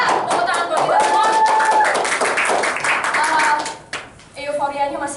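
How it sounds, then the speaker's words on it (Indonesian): Clapping at a meeting rises under loud cheering and talk, with crowd voices mixed in and a brief drop near the end before the clapping picks up again. "Tepuk tangan buat kita semua"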